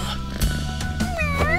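A voice imitates a cat in a German children's cartoon, producing a string of drawn-out, wavering meows that rise and bend in pitch, close and fairly loud.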